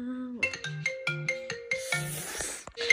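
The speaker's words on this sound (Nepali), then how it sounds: "फेरि फोन गरेछ" A phone rings with an incoming call, a melodic ringtone of repeating tones in a steady rhythm, close and clear, with no talking over it.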